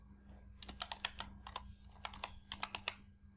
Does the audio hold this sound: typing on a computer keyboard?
yes